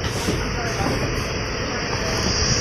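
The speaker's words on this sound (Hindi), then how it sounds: "अभी ट्रेन रुक गई" Indian passenger train slowing to a halt: a steady, broad rumble and hiss of railway carriages fills the scene, with people talking nearby over the continuous noise.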